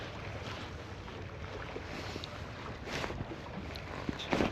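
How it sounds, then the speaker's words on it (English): Gusting wind buffets an open fishing boat out on the water, a constant rushing roar with small knocks and bumps from the boat. "that wind has definitely picked up."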